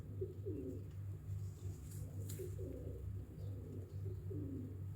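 Pigeons coo repeatedly in soft, rhythmic bursts over a steady low hum, close by and unaccompanied by talk, with a faint higher chirp briefly surfacing midway.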